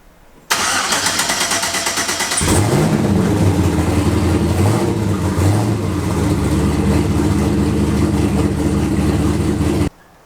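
A car engine cranks and catches, then revs up a few times before settling into a steady loud idle, heard close and alone with no talk, on the stock exhaust before an upgrade.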